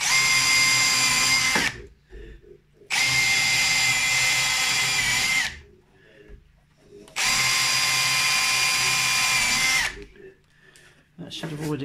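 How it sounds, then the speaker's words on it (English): A power drill whirs in three long bursts of several seconds each, loud and close, with short quiet pauses between them, pre-drilling a pilot hole to avoid splitting. "No, I should pilot drill it."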